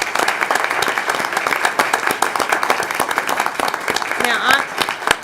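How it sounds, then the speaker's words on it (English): A school board meeting audience bursts into sustained, loud applause, a dense wash of many hands clapping evenly for several seconds, with some cheering and talk mixed in near the end. "can we give them another round of applause?"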